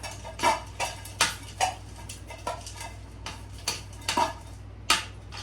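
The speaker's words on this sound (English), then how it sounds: "2 heaping peat moss. Okay, I'll stir that up." Peat moss potting mix is stirred in a pot for replanting bromeliads. A tool clinks and taps against the container in irregular sharp ticks over a soft scraping background.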